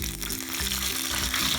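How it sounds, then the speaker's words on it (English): Steady, close crackling sizzle of two red chilies frying in hot oil, a continuous spitting hiss with no voices. "now I'm going to add 2 red chilies to this. Let it sizzle a little bit."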